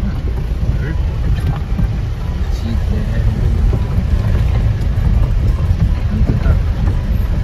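A vehicle grinds along a rough mountain road out of Salleri on the way toward Everest Base Camp, with a steady loud engine and road rumble, wind buffeting, and voices talking throughout.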